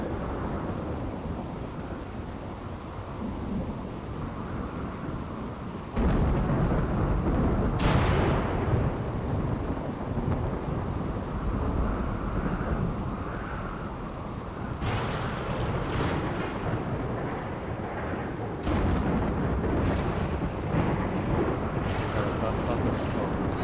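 A RimWorld game thunderstorm rolls on with steady rain hiss and several deep rumbling thunderclaps swelling in waves, the rumble loud and continuous.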